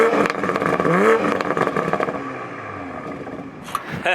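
A stock Toyota Supra engine revs sharply up in a quick rising sweep, then drops back to a rougher, lower idle rumble, loud and close, with a brief clatter near the end.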